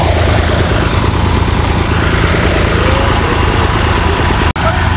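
A tractor engine runs loud and close with a continuous heavy rumble and steady vibration throughout, with a single abrupt cut near the end, near a field with large pits.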